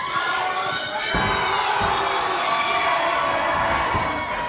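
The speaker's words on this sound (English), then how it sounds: "Crowd getting behind Adonis as expected." A wrestling arena crowd cheers for a wrestler during a match, a steady roar of voices with a few dull thuds from the ring beneath it.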